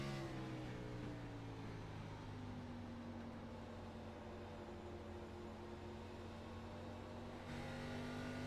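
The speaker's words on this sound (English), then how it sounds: "You hear Dalton downshift it to third." Simulated Xfinity Series race car at Phoenix, an engine drone with steady harmonic whine whose pitch slides down and then climbs as it drops a gear, continuous and fairly faint with no talking.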